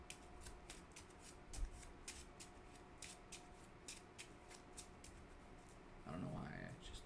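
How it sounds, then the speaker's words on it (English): Playing cards from a dueling card game deck are shuffled in a rapid series of soft riffling snaps, quiet and close, with a brief rustle near the end. "And I will shuffle these 3 into the deck."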